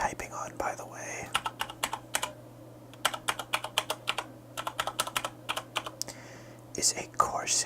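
Unhurried clicks from a Corsair K70 mechanical keyboard with Cherry MX Brown switches, close up, keys pressed in small clusters with gaps between, faint breathy sounds at the start and end.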